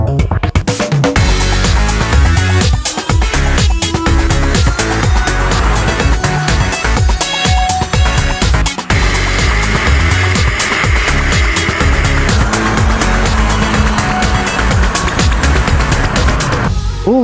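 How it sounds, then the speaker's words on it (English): A Ford Fiesta ST engine revs hard in a loud, raspy rally-car manner, with continuous rising and falling revs and sharp gearshift breaks across a long driving run. "It sounds like a little rally car."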